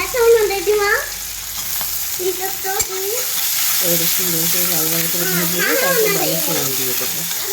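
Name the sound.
garlic and panch phoron frying in a pan for dal tempering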